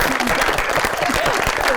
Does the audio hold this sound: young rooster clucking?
no